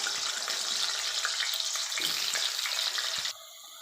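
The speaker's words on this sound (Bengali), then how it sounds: "প্রথমে আমি আলুগুলোকে ভেজে নেব" Potatoes sizzle in hot white oil, a dense continuous crackle close by that cuts off sharply near the end, leaving a faint hiss.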